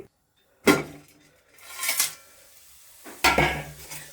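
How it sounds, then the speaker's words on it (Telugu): Whole spices and biryani masala being fried in a pan for paneer biryani, heard as a few distinct clinks and scrapes of a utensil against the pan, close and separated by short pauses. "బిర్యానీ మసాలా మొత్తం ఫ్రై చేసేసుకుందాం"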